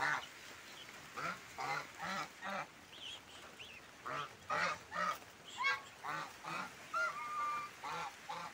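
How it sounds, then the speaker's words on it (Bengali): Farm geese and ducks honking and quacking as they are herded indoors before rain, a string of fairly close calls in short bursts, one after another. "হাঁসগুলোকে আগে তুলতেছি"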